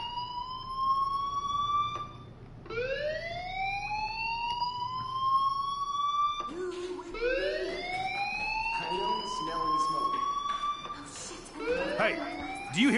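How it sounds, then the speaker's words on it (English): Fire alarm siren wailing in the video game Life Is Strange Remastered, repeated rising sweeps that climb and fall again and again, fairly loud and continuous, with faint voices and other game sounds underneath. "Hey, do you hear that fire alarm?"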